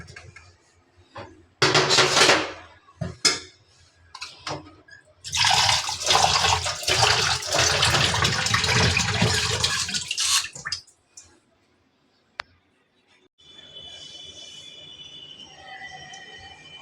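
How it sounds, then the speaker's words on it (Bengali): Water runs and splashes while plates and bowls are washed in a home kitchen, with loud bursts of flow, clinks, and a pause before quieter background sounds. "আর এখানে প্লেট বাটিগুলো ধুয়ে ফেলবো"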